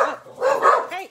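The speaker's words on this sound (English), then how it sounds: "so sorry about the dogs barking" Dogs barking indoors, a few close, loud barks with a yelping quality in quick succession over about a second.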